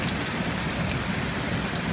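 Heavy rain pours down during a thunderstorm in Cologne, a dense, steady, loud hiss with a low rumbling undertone and no voices.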